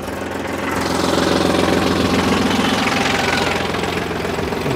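A tractor engine runs steadily in a field after ploughing, a loud continuous knocking diesel drone that holds throughout with no talk.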